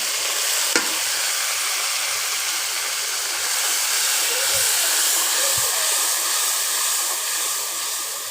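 Masala of chili, turmeric, coriander and cumin powders with salt and water is stirred in a pan, a steady bubbling hiss with a few sharp spoon clicks and scrapes, and no voices.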